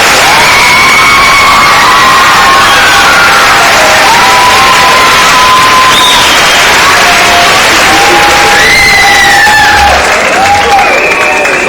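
Loud pageant audience applause with cheering and whoops from a crowd, sustained and dense throughout, tapering slightly near the end.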